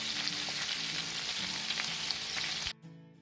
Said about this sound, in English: Put them in the skillet over medium-high heat for about 7 minutes on each side.